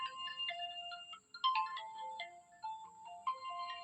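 A melodic phone ringtone plays a bright electronic tune of short and sustained notes, steady and fairly close, in a Sundanese comedy sketch with no talking over it.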